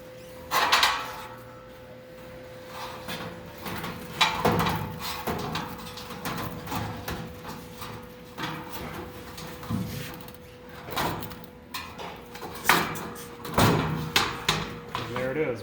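A preheater is slid into a hood at an angle, producing repeated metallic scrapes, knocks and thuds over a steady hum, with people talking throughout.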